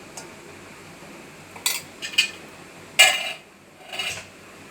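A pan is set on the stove and ghee is spooned in for cooking sesame-seed vonda, with several sharp metallic clinks and knocks of utensils against cookware spaced over a quiet kitchen background, no talk.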